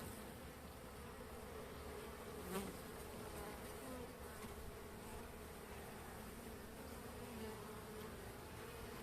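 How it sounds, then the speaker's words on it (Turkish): Honey bees crawl over a beehive frame, producing a faint, steady buzzing hum that continues unbroken throughout at close range, with no talk. "Polen toplayan arıları var."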